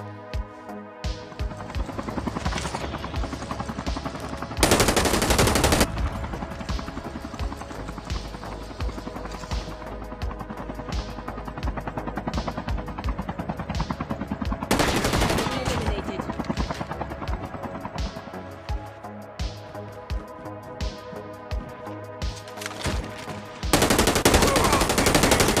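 Assault rifle gunfire in COD Mobile, long rapid automatic bursts rattling loudly with a few brief pauses, while a voice talks over the shooting.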